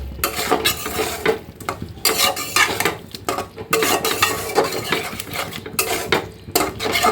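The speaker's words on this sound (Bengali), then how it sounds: "মশলার সাথে চিংড়িগুলো ভালো করে কষিয়ে নিচ্ছি" Shrimp are stirred and fried with spices in a pan, close and loud: rhythmic scraping and clinking of a spatula against metal over a steady sizzle, repeated in quick strokes.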